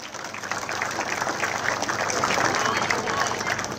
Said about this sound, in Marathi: जोरदार टाळ्या करायच्या मित्रांनो या खेळाडूसाठी